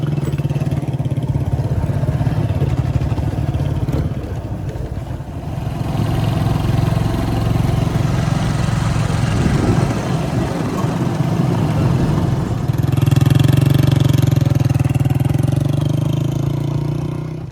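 A scooter engine runs steadily while riding along a hilly rural road, a continuous mid-pitched drone with slight swells, loud and close throughout with no talk.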